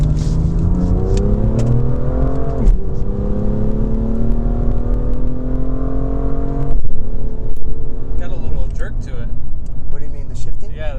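Modded BMW M2 engine revs up through the gears inside the cabin, rising and dropping in pitch, with some sharp pops later on and people talking over the engine.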